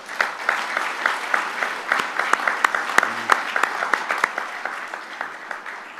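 An audience at the closing session of a drug-use conference weekend gives a round of applause, a dense, sustained patter of many hands clapping at close range for several seconds.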